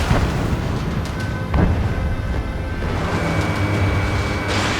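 Missile explosions and combat blasts in the flight combat video game Ace Combat 7, a continuous loud barrage of booms and bursts with a sharper hit near the middle, dense and unbroken throughout.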